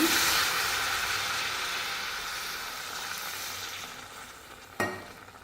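Ivy gourd fries in a pan just after water is added. A loud hiss bursts out at first and then slowly fades to a softer sizzle, with a short clatter near the end.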